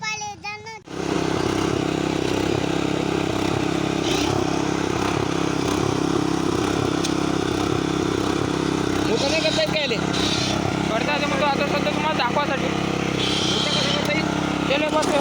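A Dfarm 7 hp power weeder rotavator digs soil, its small engine droning loud and steady close by with clattering tines, after a brief sharp start, while people talk over it.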